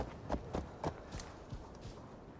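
Horse hooves clop in the Valhalla video game, a steady run of about six distinct hoofbeats at a trotting pace, fairly close and clear over a soft ambient bed, with no talk.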